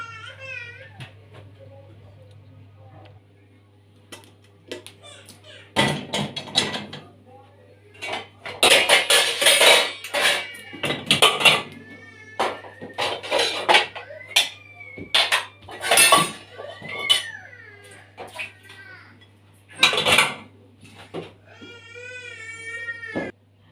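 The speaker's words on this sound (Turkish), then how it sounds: "Evet şöyle bulaşık makinesini yerleştirdim." Dishes and cutlery clatter repeatedly at close range in bursts as they are loaded into a dishwasher, with a voice and brief crying in the background.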